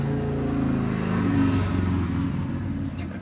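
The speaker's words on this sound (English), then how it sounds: "Stupid motorbike." A motorbike engine revs outside, a loud, low rumbling drone that swells and eases over a few seconds, heard alone without talking.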